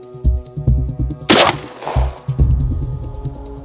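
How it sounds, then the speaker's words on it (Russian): A single loud shotgun blast firing a slug cracks out mid-clip over a steady low hum, its echo trailing off for about half a second. "Выстрел."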